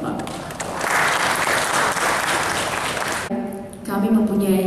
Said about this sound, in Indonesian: Mohon aplaus untuk Bapak.